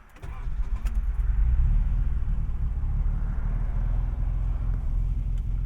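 Ignition cranks briefly, then the engine of a classic JDM car with a manual choke catches and settles into a steady low idle rumble, heard close from inside the cabin with a faint jingle of keys.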